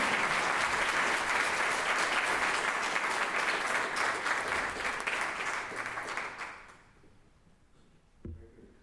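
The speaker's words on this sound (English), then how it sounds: "please welcome, with a warm applause, Matthew Larkum" Loud, dense applause from a science lecture audience fills most of the clip, then fades out over the last couple of seconds, leaving a brief faint rustle near the end.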